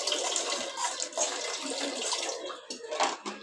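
Water runs steadily from a tap into a large cooking vessel while a pudding is being prepared, giving a continuous close splashing rush with no talking.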